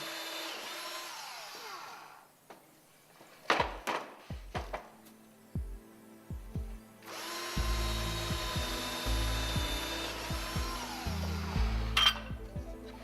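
A drill boring 3 mm screw holes in wood for a miniature train, whining steadily in two long stretches with a run of sharp knocks and taps between them, close and clear.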